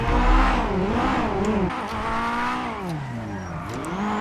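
A Honda S2000 in the video game GTA 5 revs and accelerates after an e-brake, its engine note rising and falling in repeated sweeps, loud and close throughout.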